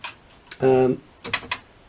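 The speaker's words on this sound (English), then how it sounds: "One thing I have forgotten is how hard and physical and mechanical this keyboard is." Keys on the hard, mechanical keyboard of a BBC Micro computer clack in a few sharp strokes, close and loud, with a brief tonal whine in the middle; no one speaks.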